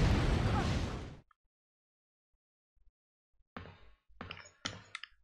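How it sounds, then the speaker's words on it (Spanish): An explosion in the video game Resident Evil 3 roars loudly for about a second and cuts off into near silence, followed by sharp clicks and clatters. "Vale, hubo una explosión"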